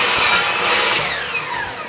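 A saw makes a quick cut through a piece of wood for a school locker prop stand, a short, loud burst of rasping cutting noise that fades slightly toward the end.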